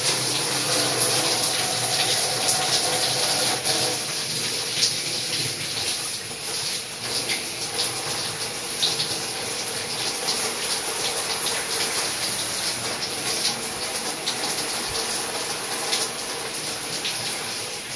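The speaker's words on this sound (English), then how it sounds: "I'm going to put my whole body in the cold water now." Water splashing and churning steadily around a person lowering their whole body into a cold bath, a continuous close wash of sloshing and dripping with no talking.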